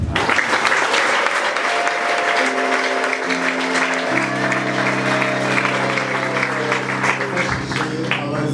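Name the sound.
applause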